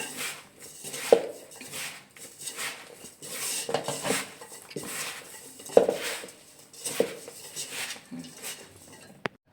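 Chopped onion being mixed by hand into rice flour in a bowl for Maddur vada, giving soft rustling and squishing with a few sharp clinks of utensil against the dish, mostly close and moderate.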